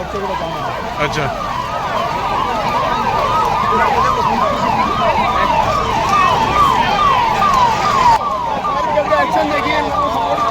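A fire brigade vehicle's siren wails in a fast repeating up-and-down cycle, loud and close over traffic noise at a night scene of bombing and a burning hut, continuing steadily throughout.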